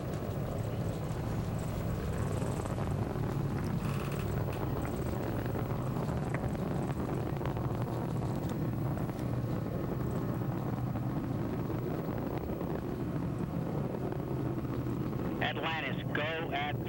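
The three liquid-fuel main engines of Space Shuttle Atlantis thunder during its final launch, STS-135, throttling back after breaking the sound barrier. A steady, distant, broadband roar carries on throughout, with a voice faintly audible over it.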